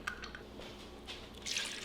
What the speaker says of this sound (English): a tablespoon of lemon juice. Well, I ain't measuring that out. We're just gonna squeeze a little bit